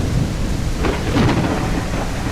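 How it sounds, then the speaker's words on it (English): Thunderstorm weather effect in a forest area of a reimagined Super Mario game, steady heavy rain hiss under a low rolling rumble of thunder that swells briefly in the middle, no voices. "This is the third regional weather effect, that is the thunderstorm"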